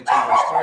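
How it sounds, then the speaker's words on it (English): A dog barks once, a short, close yelp that cuts into a sermon, with a voice speaking over it. "That's my dog."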